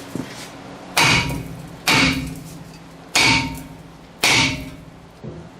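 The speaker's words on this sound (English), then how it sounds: "we're going to hit the flat spots all here, all the way around, and try to break the bond of the rotor to the hub face" Hammer blows striking a brake rotor to break it loose from the hub of a 1997-2004 Ford F-150, four loud metallic clangs spaced about a second apart with ringing decay, then a lighter tap.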